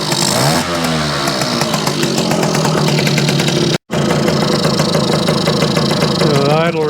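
A Yamaha YJ2 motorcycle engine idles close by with a rapid, rattly two-stroke putter, its pitch wavering as the throttle is eased down, with a very brief dropout midway.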